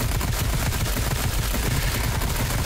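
Dense, continuous automatic gunfire in a zombie shooter video game, a loud, rapid stream of shots with no pause, heard alone without voices.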